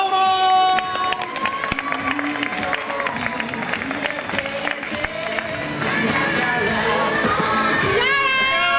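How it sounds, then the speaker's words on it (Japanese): Large stadium crowd at a baseball ground's post-season finale cheers and whoops loudly as mascots are introduced, a sustained roar of many voices with whistles and shouts layered over music. "歓声大きいな。"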